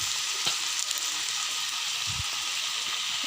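Chicken curry with meat masala, red chili and garam masala fries in a pan, giving a steady, close hiss and sizzle with a few faint stirring knocks.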